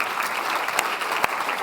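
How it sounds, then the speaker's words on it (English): Conference audience in a large hall applauding, a dense, even wash of many hands clapping close by with a few sharper claps standing out. "a big round of applause as well for the Chief Scientist at the World Health Organization, Jeremy Farrar."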